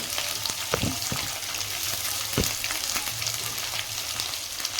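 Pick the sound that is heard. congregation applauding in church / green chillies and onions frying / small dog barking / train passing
green chillies and onions frying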